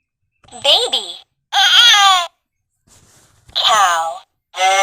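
A baby babbles in several loud, close bursts of wavering, sing-song vocal sounds, separated by short pauses.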